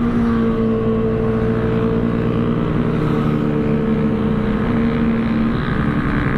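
A group ride of motorcycles, including Yamaha RX 135, RX 115 and RX 100 two-strokes and a Kawasaki ZX-10R, heard as a loud, steady close engine drone with a low hum, the riders moving slowly.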